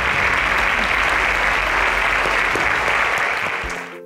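Loud, dense applause from a quiz competition audience, a continuous roar of many hands clapping that stays steady for several seconds before tailing off at the end.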